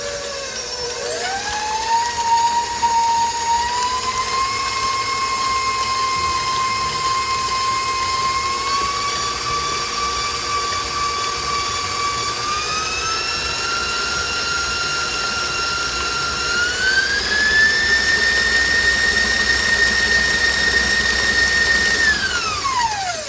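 An electric stand mixer beats eggs into lemon bundt cake batter, a loud continuous motor whine that ramps up at the start, steps higher in speed twice, then winds down at the end.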